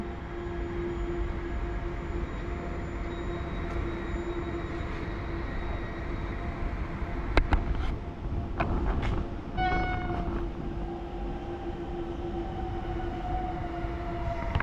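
A commuter train on the Warsaw Wschodnia to Łódź line rumbles along the rails at a distance with a steady low roar, with a few brief metallic clanks and squeals partway through.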